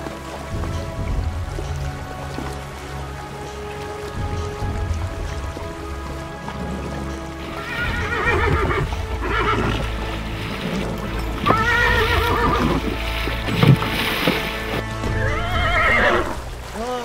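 Two horses waiting at a river crossing neigh and whinny in several loud bursts, with hoof clops and flowing water underneath.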